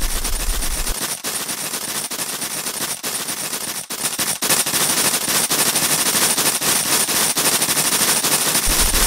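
Rapid bursts of cartoonish pellet gun fire in an animated shootout rattle almost continuously, with brief gaps between volleys, loud and close.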